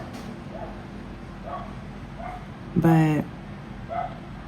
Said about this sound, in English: it's daytime, so it's dogs barking, the neighborhood is up